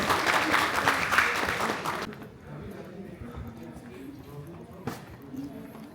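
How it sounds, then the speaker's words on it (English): An audience at the Buddhist Creators Convention applauds loudly for about two seconds at the close of a session, then the clapping cuts off, leaving quiet room murmur and a single sharp knock. "Have a round of applause for them"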